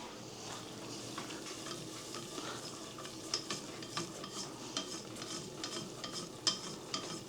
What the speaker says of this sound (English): whisk in 1/3 cup of flour and 6 tablespoons of butter on medium heat